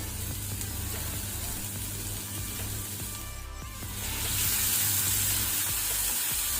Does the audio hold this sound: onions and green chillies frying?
yes